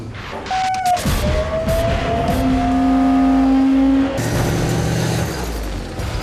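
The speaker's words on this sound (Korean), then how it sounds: "전차가 주행 시험장을 향해 힘차게 출발한다" A South Korean Army tank, overhauled after 100,000 km of service, pulls away toward a driving test ground: a loud, close engine roars and builds with a rising mechanical whine and clanking, then eases to a steady rumble.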